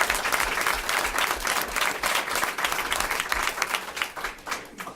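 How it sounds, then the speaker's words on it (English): Steady, dense applause from an audience at a school committee meeting honoring a student, many hands clapping at once for about five seconds at moderate level with no talking. "So let's clap it up for her."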